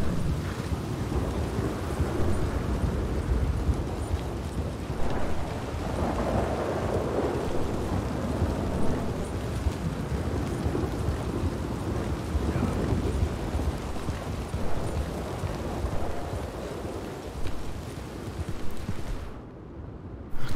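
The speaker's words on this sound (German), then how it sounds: "Das perfekte Wetter nachts und dann Regen." Steady heavy rain with rolling thunder during a nighttime storm in the Red Dead Redemption 2 video game, a dense continuous wash of rainfall and low rumbles that persists throughout.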